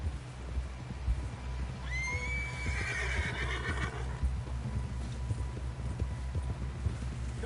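A horse in the Red Dead Redemption 2 game gives a clear rising whinny midway, while hooves clip-clop in a steady rhythm throughout at moderate volume.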